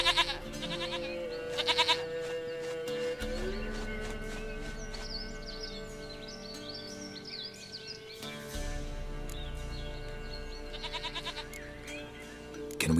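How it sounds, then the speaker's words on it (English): Repeated goat bleats from The Witcher 3 come in several wavering bursts over game music and ambience, with bird chirps scattered throughout and no talking. "Goat of mine, dearest, sweetest goat."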